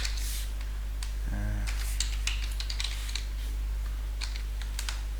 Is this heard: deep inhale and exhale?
no